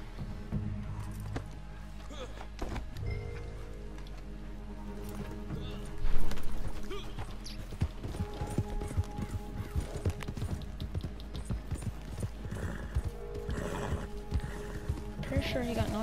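Hoofbeats from a scrawny nag of a horse in a video game clop steadily in a rhythmic stream, with a loud whinny bursting out midway, all under ongoing game music and effects.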